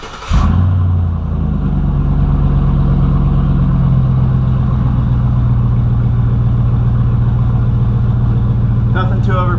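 Pickup truck with a 350 V8 and modified exhaust, running close by with a loud, steady, deep gurgling rumble that holds for nearly ten seconds.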